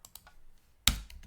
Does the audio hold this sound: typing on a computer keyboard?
yes